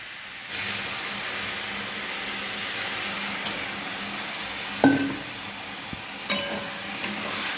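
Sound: water added to pan of frying onions, sizzling

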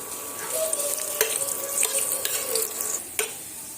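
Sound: onion and green chili frying in mustard oil

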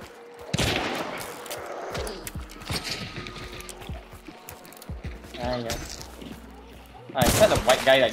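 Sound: gunfire in Hunt: Showdown video game

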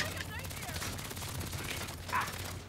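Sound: gunfire in Saints Row video game

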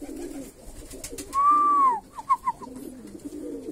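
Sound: Armenian pigeons cooing

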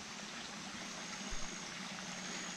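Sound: river stream flowing

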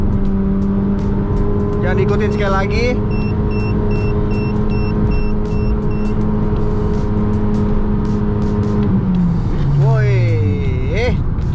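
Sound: Honda Jazz GK5 car accelerating

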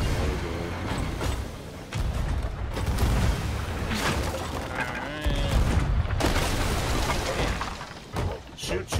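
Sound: cannon fire in Sea of Thieves video game

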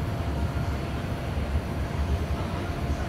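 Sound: tram leaving the depot garage

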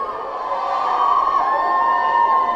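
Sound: fans cheering for actress Kim Hye-ja on red carpet

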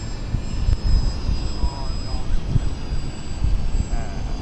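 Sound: model airplane flying in left circles during training

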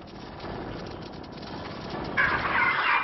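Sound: turkeys gobbling in a poultry house

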